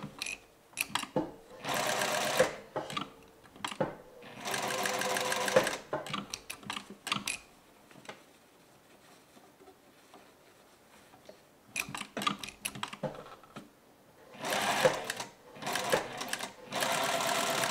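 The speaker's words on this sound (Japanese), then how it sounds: "最後は合わせるように折り曲げながら縫っていきます。" A sewing machine stitches an upper collar on a garment in several loud, rapid whirring bursts, separated by quiet pauses filled with soft handling sounds of fabric being folded and adjusted.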